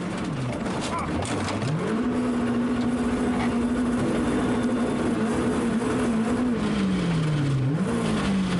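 On board a rally car at Rally Liepāja, the engine drones loudly and steadily, its pitch rising and falling with gear changes and throttle, while a commentator speaks over the continuous road and engine noise.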